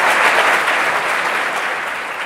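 A congregation breaks into loud, sustained clapping during a Gujarati sermon, a close, even wash of applause that fades slightly toward the end.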